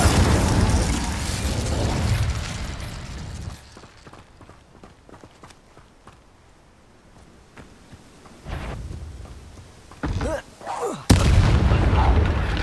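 Spell casting in Hogwarts Legacy: loud booming blasts and bursts at the start, a quiet stretch, then more sharp magical impacts and cracks near the end, with a voice speaking briefly.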